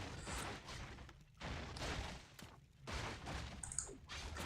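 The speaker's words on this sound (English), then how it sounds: "the Breath of Fire will do a lot of damage to those" Breath of Fire spells strike farm buildings in a Warcraft III match, heard as loud, dense bursts of crackling blasts that rise and fall in several waves.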